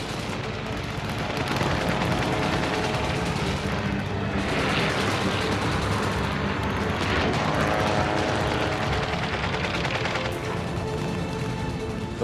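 A dense, continuous WWII air battle roars throughout, with RAF fighters meeting German Luftwaffe aircraft over the coast, engines droning under steady bursts of gunfire and artillery-like booms, loud and unbroken from start to finish.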